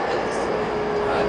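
Steady rumble and broadband hum inside a moving subway train carriage, continuous and fairly loud throughout with a faint tonal whine.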